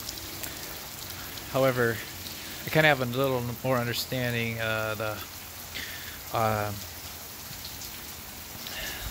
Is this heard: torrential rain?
yes